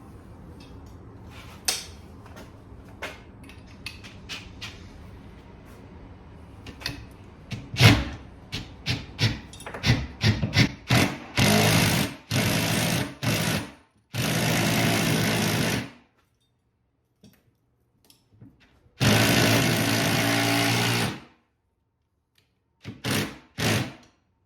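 A power drill driving bolts into a garage wall to mount a bicycle storage rack, several loud whirring bursts of a few seconds each, with clicks and handling noise in the gaps.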